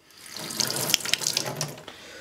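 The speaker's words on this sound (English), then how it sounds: "let's give it another bit of a rinse off" A water tap runs as an object soaked in bleach is rinsed under it. The stream is close and steady, broken by splashes and drips, lasting about two seconds with no talk.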